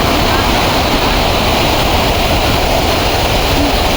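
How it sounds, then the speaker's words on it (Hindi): Loud, steady rush of river water flowing beside a large drain in a hilly village, a continuous broadband roar with no breaks. "ये देखो इधर ना नदी बह रही है, और इधर है ये ऊपर से इतना बड़ा नाला।"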